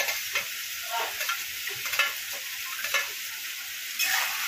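Onion, tomato and green chili frying in oil, a steady hissing sizzle broken by repeated soft scraping and stirring strokes, close and fairly loud.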